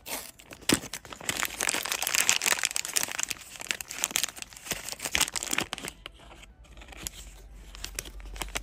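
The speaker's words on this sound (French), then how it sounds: "Donc je vais tout de suite ouvrir la pochette." A small packaging pouch is torn open and handled, producing close, continuous crinkling and rustling of plastic with sharp crackles, easing toward the end.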